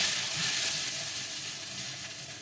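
Tamarind chutney for papdi chaat bubbling in a pan, a dense, close hiss of simmering with faint popping, steady and alone.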